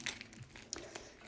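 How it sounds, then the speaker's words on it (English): Pokemon Base Set booster packs are shuffled in the hands, producing soft crinkling foil rustles with a few sharper crackles, fairly quiet and close. "let's just give these a little shuffle"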